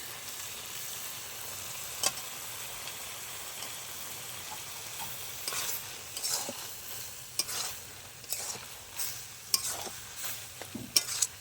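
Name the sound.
stirring grated coconut into cooked ash gourd curry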